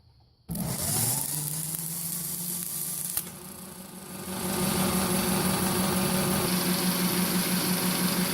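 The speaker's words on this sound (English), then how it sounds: "So I'm going to fire up the hydraulic unit here" A hydraulic unit driven by an antique 3 hp Wagner electric motor switches on abruptly and settles into a steady, loud mechanical drone with a high whine, swelling slightly louder partway through. There is no speech.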